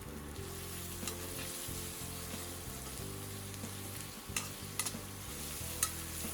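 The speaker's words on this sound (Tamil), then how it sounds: "வெங்காயம் நல்லா வதங்கிக்கிட்டு இருக்கு." Chopped onions sizzle steadily as they fry in a pan with ginger while cooking a Tamil tuna puttu, a continuous crackling hiss with occasional stirring scrapes and clinks, close and even, with no talk.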